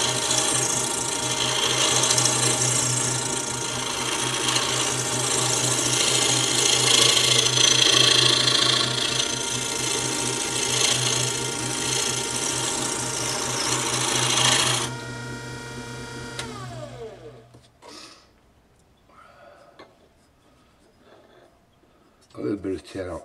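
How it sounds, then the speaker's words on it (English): A half-inch round scraper finishes a mortar, making a steady scraping rasp over a constant motor hum for about fifteen seconds, then everything winds down into quiet with a few faint knocks. "I'll just try and put a better finish on it using the half inch round scraper."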